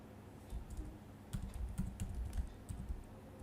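Quiet, irregular keystrokes on a computer keyboard, ending with a press of the Enter key, sound in short scattered bursts with no talking.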